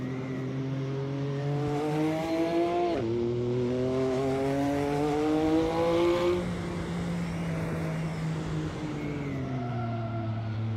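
Race car exhaust in the Assetto Corsa racing game drones steadily through gear changes, pitch climbing and dropping as the car accelerates and shifts, continuous and fairly smooth with a faint tire squeal.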